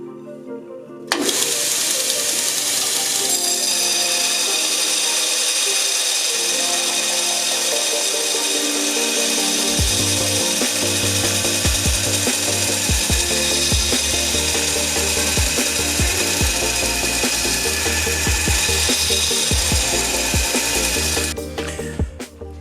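A belt grinder shapes a bourbon barrel kitchen knife, running loud and steady for about twenty seconds, its whine layered with the rough rasp of steel against the belt and shifting grinding tones as pressure varies.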